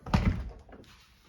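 A single solid thunk of a camper entry door with glass and a small sliding window closing, short and close, followed by a faint rattle settling.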